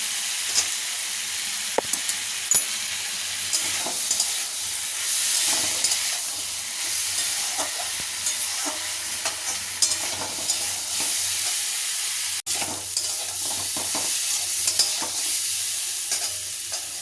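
Vegetables including raw banana, papaya and tomato sauté in a pan for a thin fish curry, giving a steady close sizzle broken by intermittent spatula scrapes and taps throughout.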